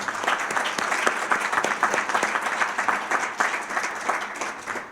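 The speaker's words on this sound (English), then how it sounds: "I greatly appreciate that applause" Warm audience applause at a Rotary club program, steady dense clapping from a roomful of people that holds at full strength throughout, with no talking over it.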